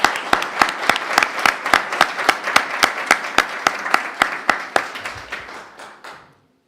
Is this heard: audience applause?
yes